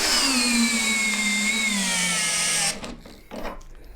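A Worx cordless Slammer drill runs hard under a torque test, a loud whining motor whose pitch slowly sags under load before cutting off abruptly, followed by a few faint clicks and handling noises.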